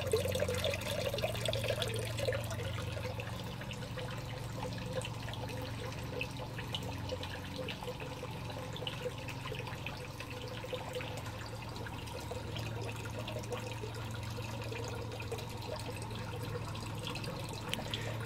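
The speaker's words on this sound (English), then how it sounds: "starts the siphon, sucks the water out so there's no water left, pulls through an air bubble" An aquaponics U-Flex siphon drains water from a media-filled grow bed on a front porch, giving a steady, continuous trickling and gurgling flow of moderate level throughout, with no talking.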